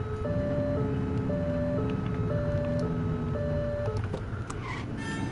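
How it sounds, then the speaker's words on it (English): A police car siren from the game The Precinct gives repeated short two-tone wails in a steady alternating pattern over engine rumble, loud and close. "Get on their tail and blip the siren."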